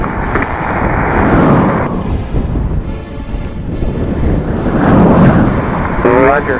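Hurricane-strength wind, around 40 mph with gusts to 50 or more, roars and buffets a microphone in heavy gusts, rising and falling in a low rumbling wash with no break.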